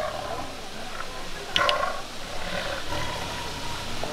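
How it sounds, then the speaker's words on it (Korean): A tiger at Everland zoo lets out a short, loud roar midway through, rising briefly above a noisy outdoor enclosure background with fainter animal sounds before and after. "호랑이에요. 호랑이입니다."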